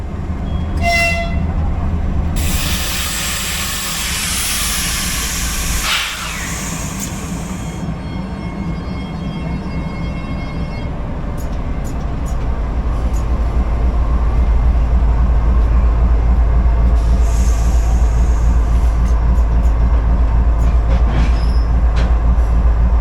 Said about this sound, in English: Being attached to our train is one of Kazakhstan's TEP-33A locomotives, based on a design by General Electric, but built locally here in Kazakhstan